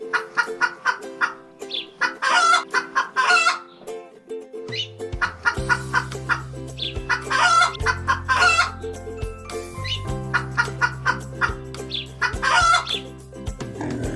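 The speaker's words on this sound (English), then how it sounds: "Chickens." Farm chickens cluck busily and a rooster crows several times over a steady bed of background music, the bird calls loud and close.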